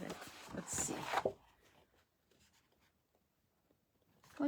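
Scissors slicing through thick bright pink paper, a short crunchy cutting burst in the first second and a half, then near silence, with a faint snip at the very end while someone speaks.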